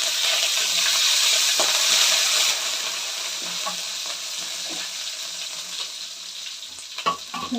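Garlic and curry leaves fry in a hot pan for tomato rice, a steady loud sizzle that eases slightly after a few seconds, with light stirring clicks and scrapes near the end.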